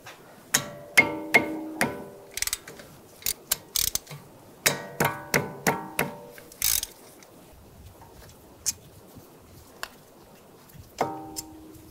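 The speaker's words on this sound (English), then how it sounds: "Using a 14mm wrench, we'll take these two caliper bolts out" A 14mm wrench ratchets on brake caliper bolts of a 2013-2016 Dodge Dart, giving bursts of rapid metallic clicks and sharp clanks up close, with pauses between runs and a final short click sequence.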